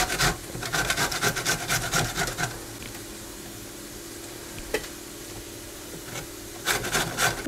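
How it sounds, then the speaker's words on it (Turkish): A garlic clove is rubbed across the fine side of a kitchen grater in quick, close rasping strokes, first in a steady run, then a quieter stretch with faint kitchen sounds, then a few more strokes at the end. "Bir tane de şöyle bir diş sarımsak rendeliyorum ince tarafıyla."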